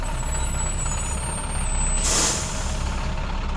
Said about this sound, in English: By the time he woke up, the bus had stopped at Hollow Point